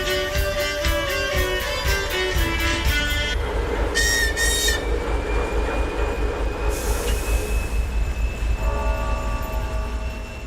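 A tough freight train on frozen Siberian rails in the Russian Arctic gas fields, heard up close and loud: steady rumble and clatter of wagons and wheels, with squealing metallic tones and a rising hiss, no talking.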